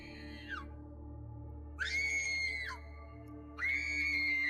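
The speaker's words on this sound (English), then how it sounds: "she just screamed right behind me" A woman screams in the woods in three long, high, piercing cries, each trailing off at the end, over a steady low hum.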